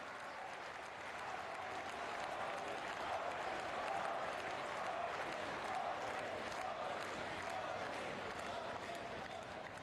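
Audience at the Samrat Samprati museum inauguration at the Jain pilgrimage site of Koba applauding to welcome the Prime Minister, a dense, even roar of many clapping hands sustained for about ten seconds, heard from a little distance.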